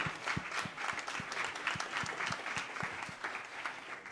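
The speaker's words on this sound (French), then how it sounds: "Et les applaudissements de nouveau." Applause from the audience at a Grand Raid press conference, a fairly faint, steady patter of many hands with some heavier, more rhythmic claps mixed in.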